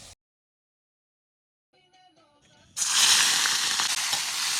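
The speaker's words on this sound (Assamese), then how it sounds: "প্ৰথম তেলত মাংসটো ভাজি লৈছে" Meat hits hot oil in a pan with a sudden loud burst of sizzling that keeps crackling steadily after a near-silent start with a few faint clinks.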